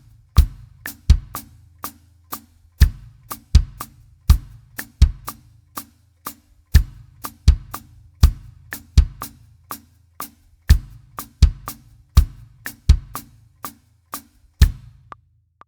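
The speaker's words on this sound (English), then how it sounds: "So if we isolate the bass drum to match that," A solo bass drum plays a polymeter pattern from a song, steady punchy kicks with uneven spacing, each hit short and booming, nothing else playing.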